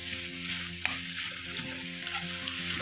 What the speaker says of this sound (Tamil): இது கொஞ்சம் நல்லா வதங்கினதுக்கப்புறம் லோ ஃப்ளேம்லேயே வச்சு வதக்குங்க, அடி பிடிச்சிடாமல்